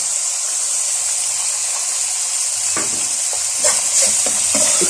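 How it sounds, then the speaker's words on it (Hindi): Potato chips frying in hot oil, an intense continuous sizzle with a bright bubbling hiss, joined in the later part by a few clicks and scrapes of stirring. "इतनी देर में हमारे चिप्स फ्राई हो रहे हैं।"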